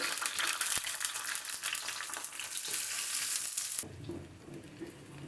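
Dried red chilies and chopped onion sizzle loudly in hot mustard oil for a dal tempering, a bright crackling fry that drops to a softer bubbling hiss as the onion goes in.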